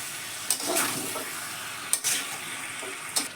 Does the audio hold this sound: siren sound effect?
no